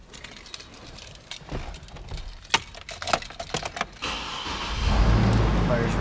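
Clicks and knocks, then a used Chevrolet Colorado pickup truck engine cranks and catches, settling into a low steady idle nearby; a voice speaks briefly.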